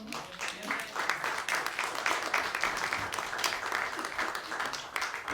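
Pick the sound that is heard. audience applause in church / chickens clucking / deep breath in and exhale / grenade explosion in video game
audience applause in church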